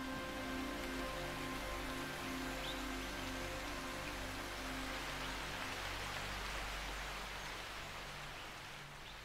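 Monsoon rain pours steadily over a rainforest on mountain slopes, a dense even hiss of falling drops with a faint low hum beneath, fading slightly toward the end.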